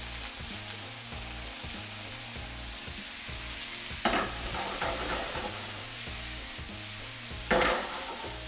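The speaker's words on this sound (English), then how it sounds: "our pan's nice and hot now, so we're gonna cook these megas. It won't take very long. Add to the pan our chopped veggies." Chopped vegetables sizzle in a hot pan for vegan megas, making a steady close frying hiss broken by a couple of louder bursts as they are stirred, with no talking.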